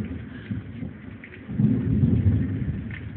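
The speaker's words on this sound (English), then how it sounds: "You hear that thunder?" Thunder rolls through a Texas summer thunderstorm, a low rumble building and swelling louder midway with steady rain beneath, and no voices over it.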